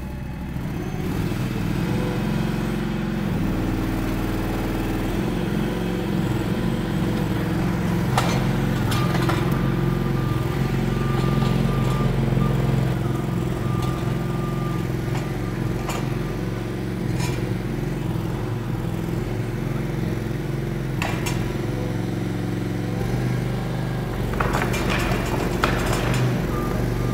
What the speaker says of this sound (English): So this machine is having to actually do all the work and really fight it.